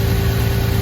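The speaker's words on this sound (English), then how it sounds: "I hope you can hear me over the engine" Jaguar XJS V12 engine, misfiring and with an oil leak, running at a steady, loud, low idle rumble heard close to the engine bay.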